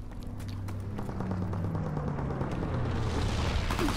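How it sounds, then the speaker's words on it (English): Low-altitude bomber run in Call of Duty: WWII, a rumbling wash of distant explosions and a low droning engine tone building steadily over the gunfire and battlefield noise. "Low altitude bomber inbound."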